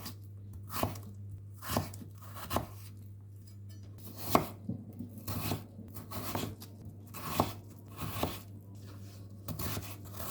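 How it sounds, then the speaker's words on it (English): A knife chops chayote into strips on a cutting board in sharp, irregular crisp strokes, close and fairly faint, roughly a dozen cuts over quiet room background without speech. "Peel, cut, remove the seeds, then cut also into strips."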